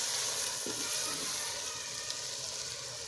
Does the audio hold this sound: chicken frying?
yes